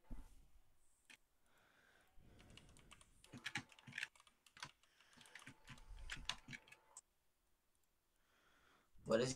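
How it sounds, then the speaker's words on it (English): Fast typing on a computer keyboard during a Minecraft server session, a run of quiet, close clicks and taps in irregular bursts, with faint voices speaking at moments in the background. "Oh, I'm typing in chat."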